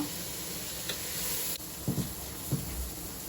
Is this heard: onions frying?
yes